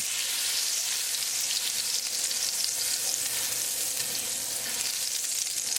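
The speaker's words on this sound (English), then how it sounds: "As the oil start to heat up, add unsalted butter." A tablespoon of unsalted butter melts into heating olive oil in a pan, giving a steady, bright, hissing sizzle that runs unbroken throughout with no voices.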